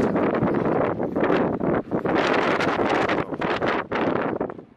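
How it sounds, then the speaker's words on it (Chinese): Strong wind howls across advance base camp at 6,400 m on the north side of Mount Everest after a night of snow, roaring loud and close against the microphone in gusts with brief lulls. "夜里刮大风，现在风还没有停"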